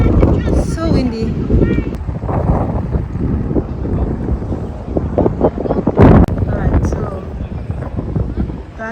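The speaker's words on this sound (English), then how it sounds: "It was so windy, very strong." Strong wind blusters near Tokyo Skytree, buffeting the microphone with loud, gusty rumbles throughout while a person talks over it.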